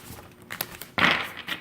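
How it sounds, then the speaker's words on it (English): A few light ticks, then a short papery burst as a deck of cards is riffled quickly, close by. "I'm going to do just one more quick shuffle."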